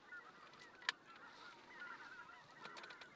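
Snow geese honk faintly and from far off during an early-season goose hunt, with a few soft calls over a low, steady background.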